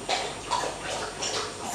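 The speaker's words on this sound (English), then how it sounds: "That's just the dog drinking water." Soft, rapid wet lapping and splashing of a dog drinking water keeps going throughout, close by.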